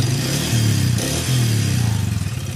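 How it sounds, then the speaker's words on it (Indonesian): A Yamaha Vixion motorcycle engine being revved, loud and close, with a coarse metallic rattle from a worn connecting rod chattering under the rising engine note. "Di sini ada juga suara stang sehernya sangat kemeletek itu saat kita gas."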